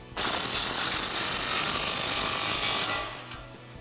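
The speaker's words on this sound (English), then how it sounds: "we can tighten up our clamp using that same 15mm socket as well as the impact wrench" An impact wrench fitted with a 15mm socket tightens an exhaust clamp on a Jeep Wrangler JL 3.6L axle-back exhaust, giving a close, loud, continuous mechanical rattle that stops abruptly near the end.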